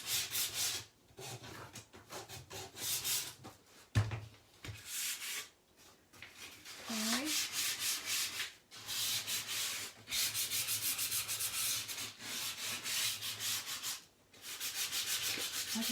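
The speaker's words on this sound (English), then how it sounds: "I'm just going to make sure that all my edges sanded a little bit so it doesn't look totally new" Hand sanding along the edges of a chalk craft piece, with repeated close, raspy strokes in steady bursts separated by brief pauses, fairly loud and alone.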